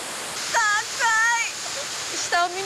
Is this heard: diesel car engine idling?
no